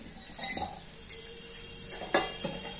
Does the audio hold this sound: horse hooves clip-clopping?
no